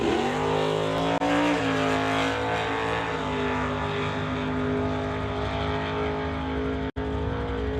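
A Camaro in a pro bracket drag race makes a pass down the strip, a loud, continuous engine roar with rising harmonic tones as it accelerates, sustained for several seconds and broken by a brief dropout near the end.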